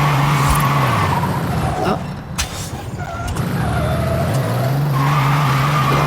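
A car in Forza Horizon 5 braking poorly and skidding: a loud, steady engine drone drops away as the tyres scrub and squeal for a moment, then the engine swells back up to full volume.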